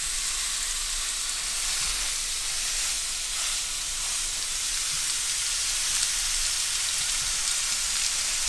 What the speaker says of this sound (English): You're gonna let this sear for probably 3 minutes with it real hot like that.